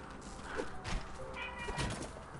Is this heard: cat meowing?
yes